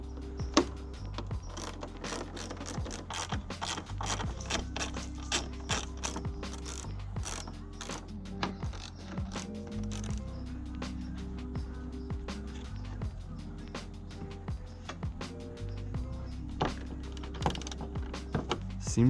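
A hand ratchet working T30 Torx bolts loose from the front end of a MK6 Golf R, giving rapid repeated clicking strokes in steady bursts, close and distinct throughout with short pauses between runs.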